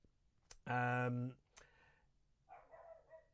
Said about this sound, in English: Oh, excuse the dog.